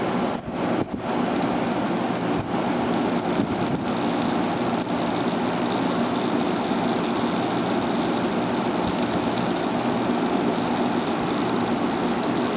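A Haier ESA410J-RGB 10,000 BTU window air conditioner blowing hard from its evaporator side, a steady close broadband whoosh of airflow with a faint tonal hum, unbroken throughout, with a few soft handling bumps and no voices.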